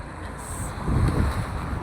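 Wind buffets and rumbles across an outdoor microphone in Saudi Arabia in a steady low roar that swells briefly midway.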